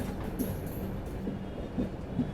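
The 15228 Muzaffarpur–Bangalore Express runs along the track between Muzaffarpur and Barauni, a steady low rumble from inside the carriage with faint periodic wheel clicks over rail joints.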